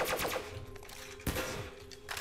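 Rapid gunfire from a Black Ops 3 custom zombies map remaking a Modern Warfare 2 level, with bursts of shots at the start and a sharp loud shot midway, then more firing, all close and loud.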